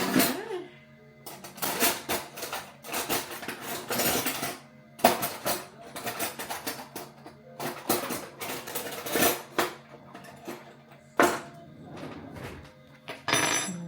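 A small spoon scrapes and clinks against an open can of chili tuna in a run of close, irregular metallic scrapes and taps, with short quiet gaps between them.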